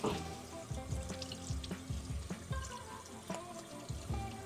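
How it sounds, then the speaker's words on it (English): Shellfish rinsed under running water in a sink on the Oregon Coast, a steady pour and splash with irregular knocks and clatters of shells and handling, close and moderately loud, no talk. "And then we're going to rinse it out."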